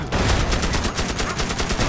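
Rapid machine gun fire in the wizard video game Magicka, a dense, steady burst of fast repeating shots, loud and continuous throughout with no pauses, and no voices over it.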